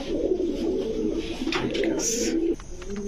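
Pigeons coo steadily in low, throaty rolls at a busy pigeon market, with a brief higher chirp and faint voices of traders behind.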